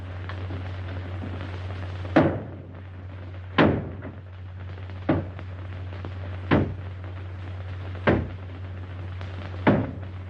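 A door is battered down in a 1938 film: six heavy, sharp thumps at roughly regular intervals over a constant low hum, with no voices.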